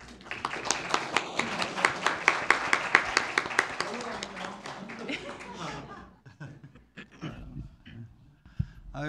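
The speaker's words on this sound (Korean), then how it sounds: "박수 부탁드립니다." Audience applause at a youth mock council session in a city council chamber: a burst of close, sustained clapping that tapers off after about six seconds into scattered claps and murmuring, with a few light chuckles.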